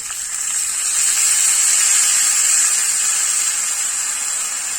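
Hot tempering of oil with sesame seeds sizzles loudly as lemon juice and water go in, a dense, continuous steamy hiss that holds steady throughout without any talking.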